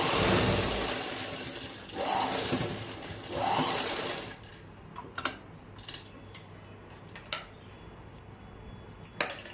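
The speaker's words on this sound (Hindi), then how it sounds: "अब हम यहाँ पर यहाँ तक और सिलाई लगाकर इसको बंद कर लेंगे" A sewing machine stitches the folded waistband of a salwar, with a loud whirring run of stitching in two bursts followed by quieter scattered clicks and ticks of handling the machine and fabric.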